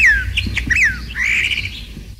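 A Chinese hwamei sings loud, close, clear whistled phrases, sliding down in pitch one after another with brief gaps between them.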